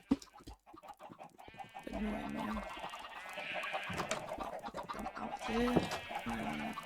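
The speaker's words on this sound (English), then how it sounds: "Chicken just saw me eating chicken and then ran away." Minecraft chickens cluck in short, repeated bursts inside the video game, blended with game sounds while someone talks over them throughout.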